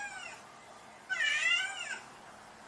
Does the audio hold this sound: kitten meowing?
yes